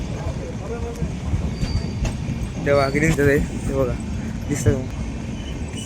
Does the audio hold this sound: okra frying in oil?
no